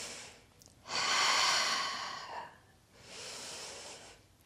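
Two long, airy exhales come through the nose and mouth during a side-lying Pilates leg lift, the first strong and sustained, the second a little softer after a short pause, close and breathy with no talking.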